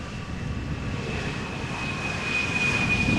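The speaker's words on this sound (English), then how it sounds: "one of the many Embraer 175s that we typically see during each stream" A KLM Embraer 175 jet at Amsterdam Schiphol Airport gives off a continuous engine roar with a thin high whine on top, the whine growing stronger toward the end.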